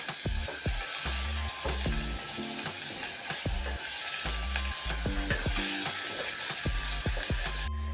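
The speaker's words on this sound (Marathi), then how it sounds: "कांदा थोडा मसूद झाला आहे त्यात आता आपण घालू टोमॅटो बारीक केलेला" Chopped tomato tipped into softened onions frying in a pan, then stirred: constant close sizzling with repeated scraping of the spoon through the mixture, no voice.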